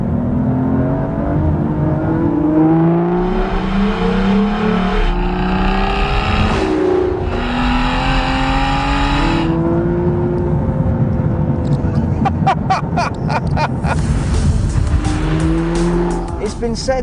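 A manual Aston Martin V12 Vantage S accelerates hard with its V12 engine, climbing through gears in long rising howls with brief dips at each shift, heard loud from inside the cabin, with a short voice remark over it.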